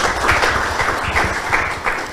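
Audience applause at a school debate on ASEAN membership, a steady wash of many hands clapping at moderate loudness with a low rumble underneath, lasting about two seconds.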